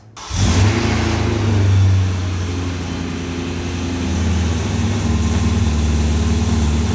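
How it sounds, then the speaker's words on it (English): A car engine cranks and catches on a cold start with the exhaust valves closed, then idles loud and steady with a low, rough rumble and a slightly elevated cold-start drone. "this is a cold start with the valves closed"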